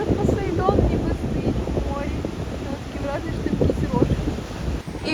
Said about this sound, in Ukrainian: Вже кілька днів шторм і сильні хвилі.